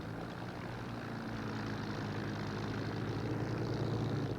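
Hawker Demon two-seat biplane fighter with a liquid-cooled inline engine, its propeller drone steady and fairly loud throughout, slowly swelling toward the end with no voices.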